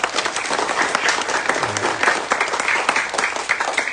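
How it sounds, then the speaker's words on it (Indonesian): Applause from a crowd gathered for a flag ceremony led by a local police chief, dense clapping sustained throughout, close and loud. "Tepuk tangan."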